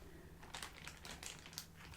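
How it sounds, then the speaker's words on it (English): A big plastic bag crinkles and rustles up close in short irregular bursts, soft and crisp with no talking. "I have this big plastic bag"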